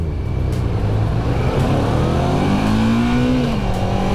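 A V-twin motorcycle engine revs hard and close, a loud continuous throaty roar whose pitch climbs steadily before easing back slightly, with no voices over it.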